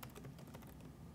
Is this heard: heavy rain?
no